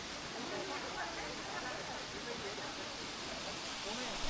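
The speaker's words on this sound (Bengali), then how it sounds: "এই 3 নম্বর স্পটের ঝর্ণা।" Waterfall stream flowing inside a cave garden in Meghalaya, a steady broadband rush of water that holds even and continuous throughout, with no voices heard.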